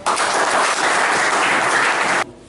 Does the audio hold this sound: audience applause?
yes